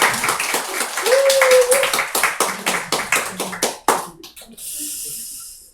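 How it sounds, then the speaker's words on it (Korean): Korean church congregation clapping to encourage the choir at a prayer service, a close, loud run of distinct claps that thins and stops, with a brief voice early on and a hiss of room noise at the end. "우리 성가대를 격려하는 박수를 보내주면 좋겠습니다."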